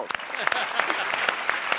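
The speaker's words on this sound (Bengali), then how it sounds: "তার জন্য একটা জোরে হাততালি" Studio audience applause on a Bengali TV family game show, dense rapid clapping from many hands, loud and close, filling the short moment without a break.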